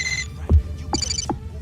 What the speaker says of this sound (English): different ringtones you want to use for the various people who will be calling you